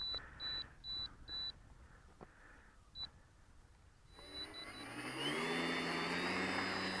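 A remote-controlled model plane sits ready for takeoff: a few short electronic beeps sound, then its motor spools up into a rising whine that settles into a loud, steady drone.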